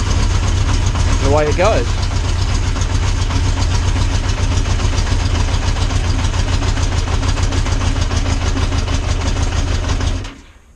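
A custom motorcycle engine with a Motogadget M-Unit cranks on the starter and settles into a steady, close idle with a rhythmic chug, then cuts off abruptly at the end, a voice briefly speaking over it.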